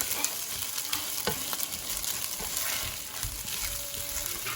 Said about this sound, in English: We're going to go ahead, we're going to give this a stir.